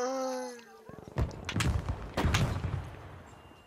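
Gunfire in the Battlefield 5 video game: a burst of sharp shots and thuds begins about a second in, with a second cluster a little later, over busy game noise.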